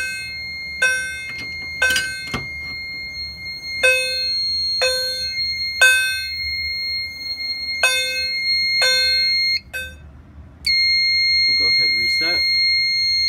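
A fire alarm system test with a Secutron pull station driving a FOS chime that strikes in regular repeated bell-like rings, a System Sensor strobe, and a steady electronic tone sounding between the strikes, loud and close, with a person talking over it.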